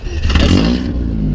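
A BMW E36 Compact with a leaky exhaust, no catalytic converter and a different ECU revs up close, a raspy rising blip that settles back into a rough idle, with no talk over it.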